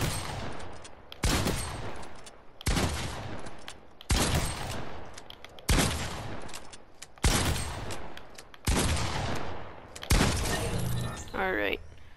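A pump shotgun fires in the Fortnite video game, eight loud, sharp blasts spaced about every second and a half, each with a short echoing decay, followed by a faint electronic tone at the end.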